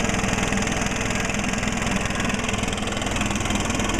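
A Stihl four-mix engine on a trimmer or BR600 leaf blower idles with a steady, close, buzzing drone and a fine rapid pulse, unbroken across the whole stretch with no voices.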